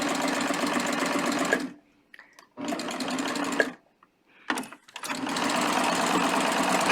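A serger stitches a knit hem band in loud, steady bursts of rapid mechanical whirring, stopping and restarting a few times with short quiet gaps between runs.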